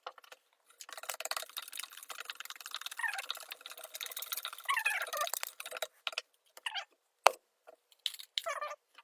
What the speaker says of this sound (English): Go ahead and give that a stir.